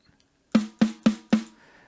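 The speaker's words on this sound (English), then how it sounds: "So what a center hit sounds like is just this." Four evenly spaced snare drum hits in the center, each a crisp snap with a short ringing decay, heard close and alone.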